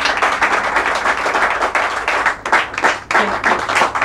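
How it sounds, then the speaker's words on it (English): A large audience bursts into loud, sustained applause for an honored guest at a public event, dense overlapping claps with brief dips, continuing strongly to the end. "a resounding round of applause for Mr."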